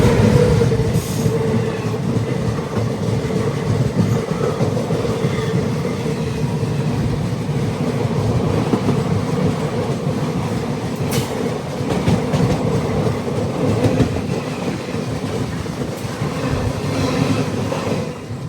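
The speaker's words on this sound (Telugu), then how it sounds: "క్రాస్ ఓవర్ అయితే అవ్వబోతుంది" An Indian Railways express train running toward Prayagraj Cheoki Junction rumbles loudly as it crosses over points, with continuous clickety-clack wheel beats and occasional metallic squeals over a heavy steady roar heard from aboard.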